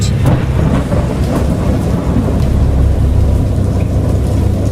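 Dense, steady rain with low rumbling thunder in the game Dagon, a broad continuous roar holding at an even, loud level throughout with no voices.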